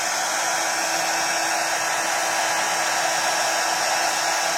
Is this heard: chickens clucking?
no